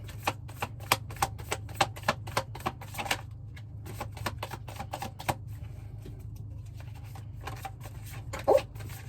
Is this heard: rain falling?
no